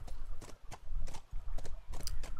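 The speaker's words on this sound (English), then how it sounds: "I don't think the horsey can jump over that, but can jump over this." Horse hooves clip-clopping in the video game The Last of Us Remastered, an uneven run of hoofbeats, moderately near but fairly quiet.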